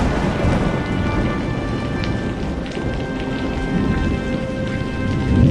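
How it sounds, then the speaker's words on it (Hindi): Heavy rain pours steadily in a dense, continuous roar, with low rumbles of thunder rolling underneath throughout and a slight swell near the end. "ये बारिश तो थम ही नहीं रही।"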